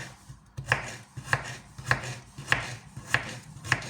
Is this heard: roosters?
no